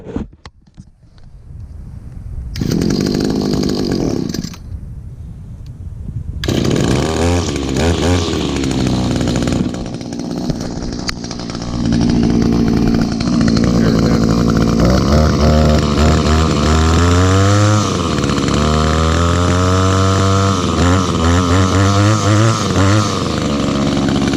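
An Echo or Stihl chainsaw engine runs close by, loud and steady, with revving surges and a brief drop midway as the engine bogs before picking back up.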